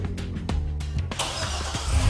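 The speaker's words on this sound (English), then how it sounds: "I just started my car from my iPhone with Viper Smart Start." A car engine remote-started through the Viper Smart Start iPhone app cranks with a few sharp clicks, then settles into a steady, close running rumble that swells slightly toward the end, with no talking.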